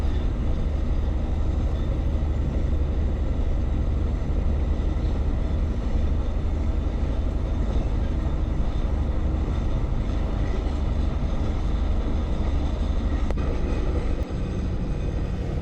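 A night sleeper train, number 83 from Bangkok to Trang in southern Thailand, rolling along with a heavy continuous low rumble and rattling carriage noise, steady throughout with a brief clunk near the end.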